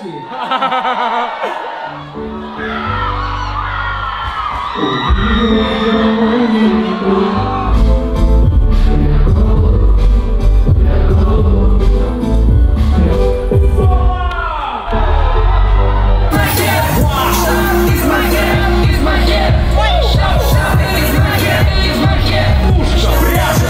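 A loud concert crowd in Moscow roars, shouts and cheers continuously, with whoops and chatter mixed into a dense, sustained wall of noise and music.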